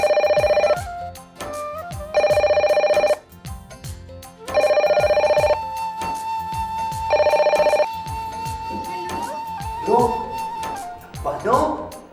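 Telephone ringing in four loud electronic bursts separated by short gaps, with people talking and background noise in between and afterward.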